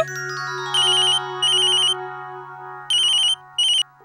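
A mobile phone ringtone plays in a household setting: a sustained musical tone with repeated bright electronic bursts, four rings in all, loud and close, with no talking.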